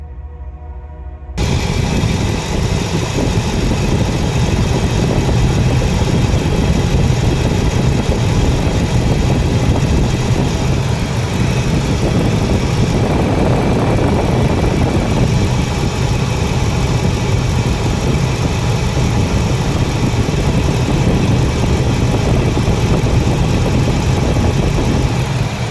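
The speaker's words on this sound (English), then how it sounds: "fire the truck up" Engine of a 2001 Ford F-150 pickup truck with a no-heat fault, just after a full coolant system flush, starts and settles into a steady, loud idle, a continuous low rumble with mechanical vibration close to the truck and no talk.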